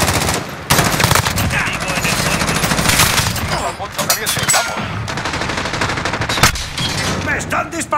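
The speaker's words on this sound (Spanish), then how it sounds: "¡Me están disparando!" Rapid automatic gunfire in a Call of Duty Modern Warfare match, loud dense bursts of shots firing almost continuously with brief gaps and layered game effects.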